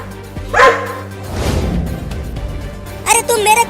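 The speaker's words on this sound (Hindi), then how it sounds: "अरे देखो वो कुत्ता कितना बड़ा है और वो गुस्से में भी है" A big, angry dog barks in short bursts, nearby and loud, with a voice talking over and between the barks.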